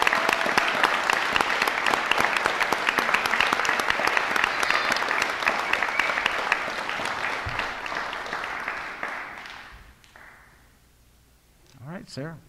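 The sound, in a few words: applause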